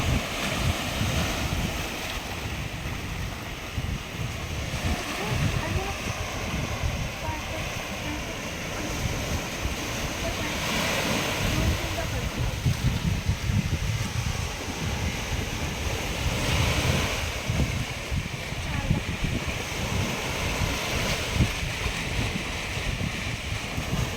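Ocean surf rolls in continuously at a Mumbai beach near Bandra, a steady roar of breaking waves with wind buffeting the microphone.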